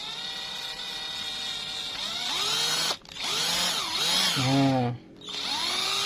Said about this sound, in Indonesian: jadi kita perbesar lubangnya dengan menggunakan mata bor ini